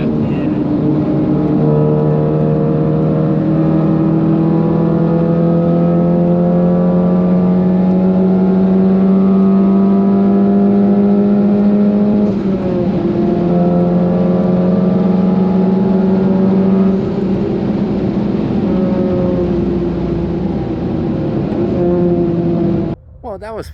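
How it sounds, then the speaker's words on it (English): An Audi S1 rally car tears through a lap in a racing video game, its engine droning loud and steady as the revs climb and drop through gear shifts, with brief lifts before the sound cuts off. "let's go do a lap in the Audi S1"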